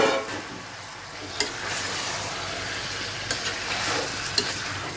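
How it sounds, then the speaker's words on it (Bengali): Chicken pieces hit hot oil and fried spices in a pan, giving a steady close sizzle and frying crackle throughout, with a few louder sputters and stirring scrapes. "মশলাগুলো কিন্তু মোটামুটি ভাজা হয়ে গিয়েছে, এখন জাস্ট এই যে মাংসগুলো দিয়ে দিচ্ছি।"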